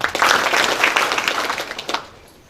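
A university public lecture audience claps for its lecturers and management, a loud, dense burst of applause that thins to a few separate claps and fades out near the end.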